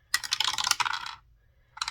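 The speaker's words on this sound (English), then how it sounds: "I'm going to roll a 6-sided dice and see what we get" A six-sided die clatters and tumbles across a hard surface in a quick, rattling burst lasting about a second, then settles into silence before another short clatter starts at the end.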